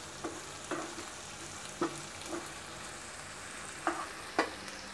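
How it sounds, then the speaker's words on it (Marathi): Onion softening in a pan for stuffed brinjal, a quiet steady sizzle broken by several short scraping stirs spaced a second or so apart. "आपला कांदा आता परतून होत आहे, मऊ झालेला आहे चांगला."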